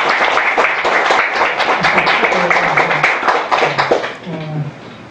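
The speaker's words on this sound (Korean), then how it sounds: "자, 박수 한번 쳐주세요" Audience applause at a Korean lecture gathering, a dense wash of many hands clapping at close range for several seconds, with voices mingling and the clapping thinning toward the end.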